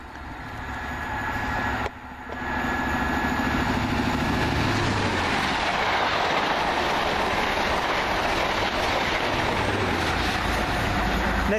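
A passenger train, likely a Bicester North to London Marylebone service, passes close through Seer Green station with a loud, sustained rumble and rhythmic clickety-clack of wheels over rail joints, briefly dipping before continuing strongly.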